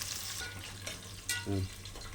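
Ingredients for a Kongu-style biryani sautéing in a pan, a continuous close sizzle with a couple of sharp utensil scrapes and a short bubbling burst.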